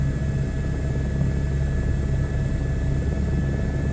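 A single-engine helicopter in Microsoft Flight Simulator 2024 drones with a steady, continuous rotor and turbine hum, evenly loud throughout with no talk.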